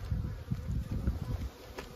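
Honeybees buzzing at an open beehive during inspection, a dense low droning hum that swells and fades, close and fairly loud, with no talk.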